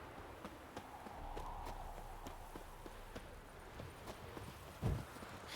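The horse Roach's hooves clip-clopping in The Witcher 3, a quiet, regular series of light hoof strikes at a walking pace over soft ambient noise, with one louder thump near the end.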